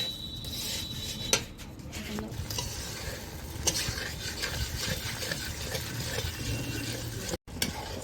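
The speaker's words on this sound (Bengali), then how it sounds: "ভালো করে নেড়ে জল করতে হবে চিনিটাকে" Sugar stirred in a pan until it dissolves for tamarind pickle, a continuous scraping and rubbing of the spoon against the pan with a light sizzle beneath and one or two sharper knocks, close and without talk.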